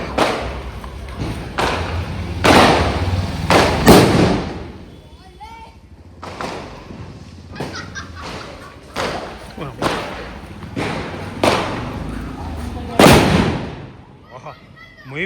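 Firecracker bombs bursting during a festival celebration, several loud thumping blasts spread across the stretch with crackling debris between them, while people talk and shout throughout.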